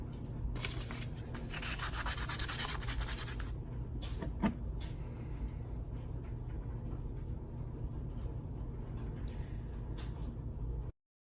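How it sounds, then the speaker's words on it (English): Steady abrasive rubbing of sanding against a small metal sword blade, continuous and close, with a harsher scratchy burst early on and a few sharp clicks later. "So while I'm sanding the blade"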